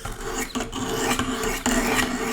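A sharpening stone rasped along a knife edge on a Wicked Edge Pro sharpener, giving close, gritty strokes with two brief breaks between passes.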